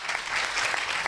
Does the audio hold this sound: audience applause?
yes